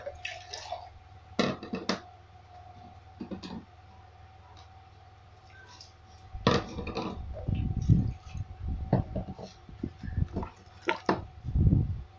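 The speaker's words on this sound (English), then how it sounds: "let me rinse all the containers" Containers being rinsed with water while making bleach, with quiet drips and clinks at first, then louder splashing, sloshing and handling noises in irregular bursts, all close by and without voices.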